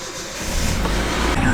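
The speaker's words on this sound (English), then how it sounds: "We are driving across town to AZ Pro Performance." A Nissan D21 Hardbody pickup truck drives along, its engine a steady loud low rumble with road noise throughout.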